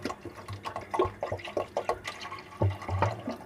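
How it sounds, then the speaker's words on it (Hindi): Water pours into a pot of chicken aloo shorba, a short splashing, trickling stretch that comes in bursts, fairly close and at moderate volume. "हमने पानी डाल दिया।"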